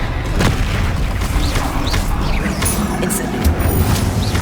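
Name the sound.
Bombarda blasting spell explosion in the video game Hogwarts Legacy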